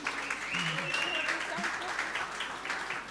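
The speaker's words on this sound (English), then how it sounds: "Could you please give Pat a round of applause one more time?" Audience at a youth-owned brands awards media launch gives a full round of applause, a continuous, even wash of many hands clapping with a few voices blended in, moderately distant.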